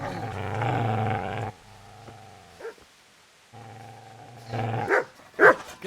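In the video game Kingdom Come: Deliverance, a dog gives deep, drawn-out growling snarls at close range, two sustained rumbling growls separated by a pause, ending in a few sharp barks.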